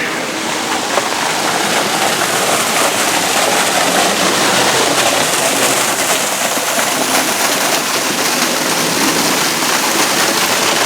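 A waterfall near Crystal Lake in Azusa, California, with a fallen log at the top of the first falls, gives a steady, loud rush of water that fills the whole stretch without a break.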